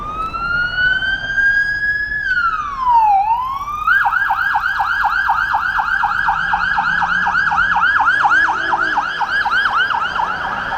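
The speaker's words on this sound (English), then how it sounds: "I'm hearing sirens. Oh, it's a police car." A loud police car siren wails on a Toronto street near Queen's Park, sweeping up and down, then switches to a rapid repeating yelp that continues steadily.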